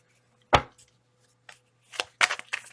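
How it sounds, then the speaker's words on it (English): Tarot cards shuffled by hand in a few short, crisp riffling bursts with brief pauses between them, close and fairly quiet. "2 more shuffles."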